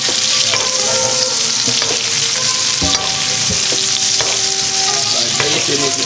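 Cod pan-frying in butter gives a loud, dense, continuous sizzle right up close, with occasional faint scrapes and taps from a utensil in the pan and no talking.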